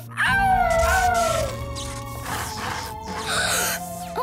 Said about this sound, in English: Keep howling, Rubble.